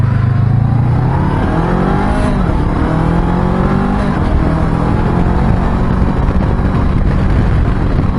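Honda CB500X adventure motorcycle engine accelerating, a loud steady drone rising through the gears with rising pitch sweeps, close and continuous with no talk.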